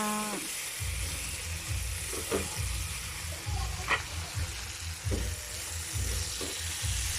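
Bitter gourd sautéing in a pan, with a steady broadband sizzle and a regular series of low stirring scrapes roughly every second, close and fairly loud, with no talking.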